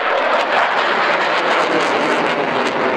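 A French Air Force Rafale fighter jet flying at RIAT airshow, a loud steady roaring engine wash filling the air, broad and continuous without pause, no voices over it.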